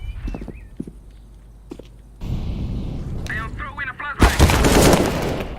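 Gunfire in a competitive team shooter video game, sharp shots among footstep-like clatter and a dense burst of rapid fire near the end, with players talking over it.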